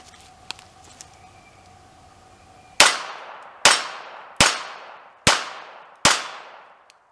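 Five sharp, loud gunshots from a Stoeger Luger .22 semi-auto pistol firing CCI standard velocity rounds, evenly spaced about a second apart, each with a ringing decay, after a few quiet seconds of faint clicks.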